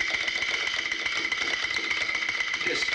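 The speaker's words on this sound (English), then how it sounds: "The teeth chatter. They're plastic." A plastic wind-up chattering teeth toy clatters in a fast, even mechanical rattle, loud and close, running steadily and alone for the whole stretch.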